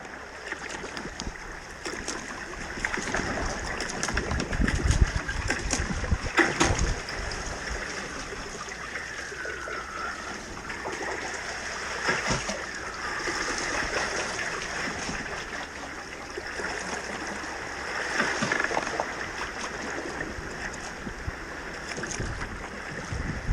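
A sea kayak is paddled through narrow channels along the Irish coast, with steady blade strokes and stern ruddering. Water splashes and swishes continuously against a background of surf and wind.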